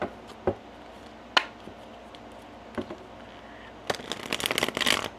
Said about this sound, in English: Let me get a couple more cards on the table